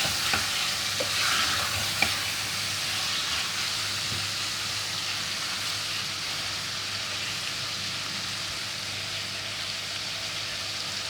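A meat mixture for dahi dhua gosht roasts in a pan with a continuous close sizzle and occasional stirring scrapes, steady throughout with no voices.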